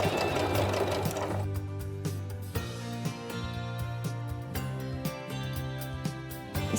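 A sewing machine stitches lace for a bralette, running in a steady, close mechanical whir with rapid rhythmic needle clatter and brief pauses.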